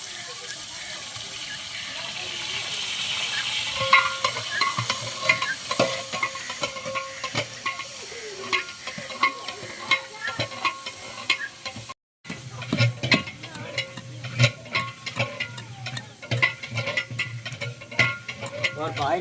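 Meat, peas and masala being fried and stirred in a pot at a village iftar cook-up: continuous sizzle with frequent scraping stirs and clinks, moderately close, with people talking nearby.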